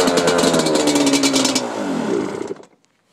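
A Kawasaki KFX400 ATV engine runs loud and close after a cold start on choke, a rough, rapid idle that winds down and shuts off near the end.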